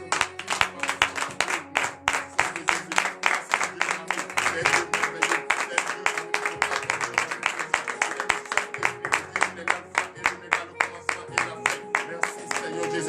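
A church congregation at a Thursday morning prayer service in Comè, Benin claps steadily in rhythmic unison for about thirteen seconds, loud and close, with music and voices underneath.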